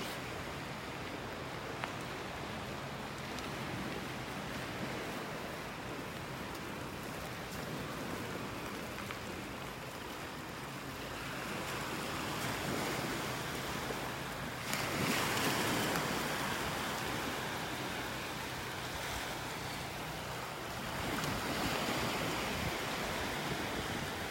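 Surf washes onto a shell-strewn beach in North Naples, Florida, a continuous broadband wash with swelling surges and gusts of wind, no voices.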